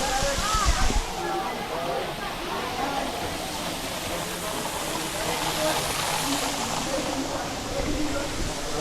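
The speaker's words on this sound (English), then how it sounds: "Is this the most unique waterfall in the world?" Steady rushing water of a waterfall at Kailasa Temple, India, pours continuously, a broad splashing roar with a louder burst at the start and faint voices underneath.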